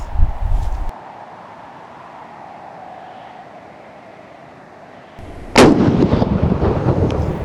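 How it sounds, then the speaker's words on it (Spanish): A single loud rifle shot cracks out during a mountain aoudad hunt in Alicante, preceded by a brief rumble and quiet outdoor ambience, with a lingering echo trailing after the blast. "Un disparo certero y el animal apenas corre unos metros."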